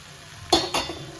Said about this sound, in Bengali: পটলটা দিয়ে আরও 5 মিনিট কষিয়ে নেব। কষিয়ে নিচ্ছি।